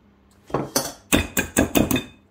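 A utensil crushes lumps in a bowl of pear and chocolate cake batter, making six sharp, clattering knocks against the bowl in quick succession with no talk.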